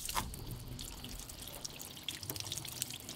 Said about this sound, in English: you can see that there's still water that's taking its time to come down.